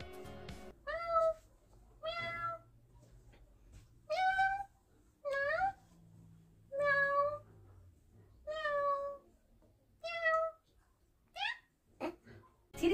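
A voice imitates a cat, making about ten short, high meows in a steady series with brief pauses between them.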